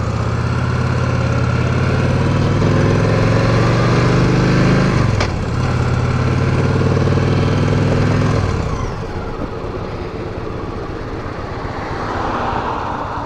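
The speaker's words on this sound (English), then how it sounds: "And that clutch really clunks." A 2015 Victory Cross Country touring motorcycle idles steadily and loudly, then its clutch engages with a sharp clunk as it drops into gear, the engine note shifting afterward.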